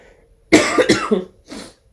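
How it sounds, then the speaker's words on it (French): A short burst of harsh coughing from someone ill with COVID, two or three close, loud coughs in quick succession, then a fainter final cough after a brief pause. "vous voyez que je tousse."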